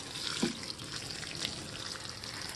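Water is poured from a tap-like stream into a wicking tub of plants indoors, a soft continuous splashing trickle with a few small surges, quiet and close, without speech.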